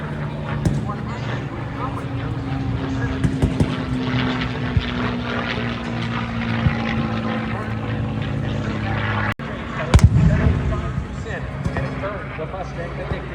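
A P-51C Mustang propeller fighter flying at an air show, its steady engine and prop drone running loud and continuous, with a brief dip and a louder swell near the end as it passes; faint crowd noise underneath.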